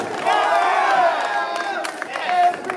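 Wrestling crowd at a CCW Chaos event shouting and cheering loudly in support of a wrestler, a sustained roar of voices with whoops rising and falling.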